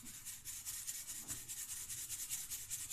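Ground chili masala is sifted through a sieve close up, a soft, rhythmic rubbing and scratching repeated in quick even strokes.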